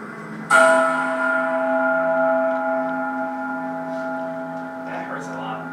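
A struck bell rings with a sharp attack, then a long sustained tone with steady harmonics that slowly decays over several seconds, with faint sounds near the end.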